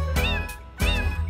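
A cat meows twice in a children's farmer song, two clear, close, rising-and-falling cries spaced less than a second apart.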